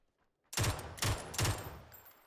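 An MG3 machine gun fires in PUBG, three loud close-range bursts of rapid shots in quick succession after a brief quiet start.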